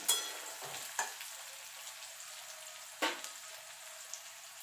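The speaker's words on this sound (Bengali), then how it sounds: "এবার পেঁয়াজটা ভালো করে ভেজে নেব।" Onions fry in oil in a pan, giving a steady, fairly quiet sizzling hiss broken by a few sharp spatula scrapes near the start and around the middle, with no voices.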